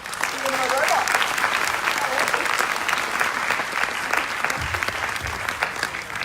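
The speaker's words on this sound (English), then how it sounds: "can we give a huge round of applause to Sophia, humanoid robot?" A large forum audience at a Sydney digital marketing event claps for Sophia the humanoid robot, dense steady applause filling the room, loud and continuous with faint voices beneath.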